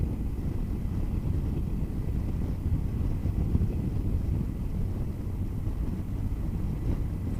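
A Triumph Thunderbird 1700 motorcycle cruising at 50 mph makes a steady low engine rumble mixed with heavy wind roar, continuous and close, with no voices.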